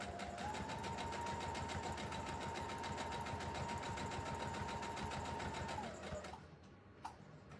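A sewing machine runs a steady straight stitch around the mouth opening of a large smiley-face pillow, its fast even whir continuing for about six seconds before slowing and stopping, followed by a single small click.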